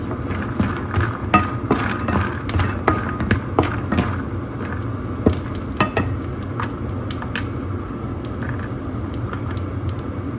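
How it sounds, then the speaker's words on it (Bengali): Ash gourd lentil dumplings frying in oil in a home kitchen, a steady sizzle under repeated scraping and stirring clicks from a utensil against the pan, close and continuous. "চাল কুমড়ার বড়িটা একটু ভেজে নিই"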